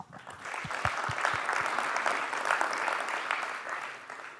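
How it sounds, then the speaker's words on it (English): Summit audience welcoming a speaker before an Apache Spark streaming talk with a round of applause, the clapping swelling quickly into a dense, even patter that holds steady, a few louder individual claps standing out near the start. "let's give him a round of applause"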